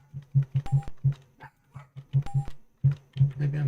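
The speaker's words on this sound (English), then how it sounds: "My dog will quit barking in a minute." A pet dog barks repeatedly in short, rhythmic bursts, close and fairly loud, with brief electronic beeps in the background.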